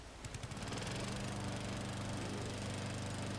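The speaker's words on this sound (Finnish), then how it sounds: "Ruohonleikkuri." Lawn mower engine in the video game Dead Rising 2, sputtering briefly as it starts, then settling into a loud, steady, rattling drone.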